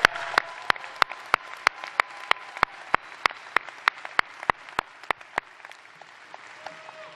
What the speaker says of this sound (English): Please, one more time, a round of applause.